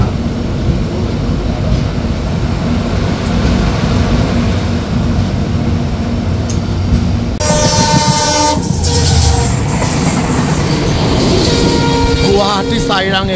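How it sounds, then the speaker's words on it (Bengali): The Guwahati–Sairang Express rolls past loudly with a continuous rumble of wheels and wagons, then a long, blaring horn sounds repeatedly over the passing train, with a voice faintly present beneath. "গুয়াহাটি সাইরাং এক্সপ্রেস"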